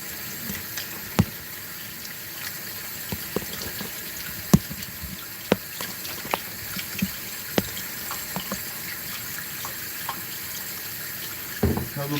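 Water runs steadily from a kitchen tap into a sink while dishes are washed after cooking chicken, a constant hiss broken by sharp clinks and knocks of crockery.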